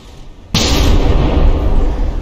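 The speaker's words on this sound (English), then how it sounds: "I just love how it comes to a full stop when those 12 guns fire." A salvo of twelve battleship guns goes off at once in the naval combat game From the Depths, a sudden loud blast that rolls straight into a sustained, dense roar of rumbling gunfire and echo.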